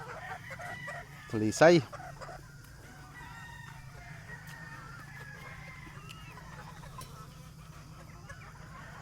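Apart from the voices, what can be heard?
chickens and chicks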